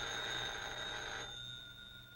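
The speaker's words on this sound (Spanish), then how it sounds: "Contesta el teléfono." A telephone rings in a 1958 Cuban setting: a faint, steady electric bell tone that sounds briefly, then cuts off and leaves a thin lingering hum.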